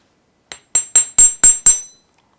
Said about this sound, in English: I'm stroking the wire with the hammer as you hammer it